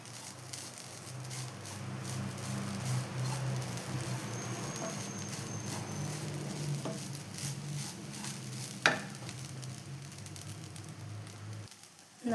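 Grated coconut dry-roasts in a pan with a steady, soft sizzling rustle and occasional stirring scrapes, close by, with one sharp knock partway through; no one speaks.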